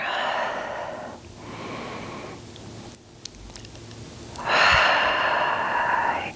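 Deep, slow yoga breaths in a chair-supported session: long airy inhales and exhales, with a brief pause and a few small clicks between them, close and unvoiced.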